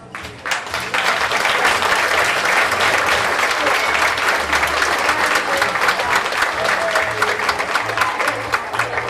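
Sustained, loud applause from an audience at a children's dance performance, dense hand clapping with crowd noise filling the hall without a break for around nine seconds.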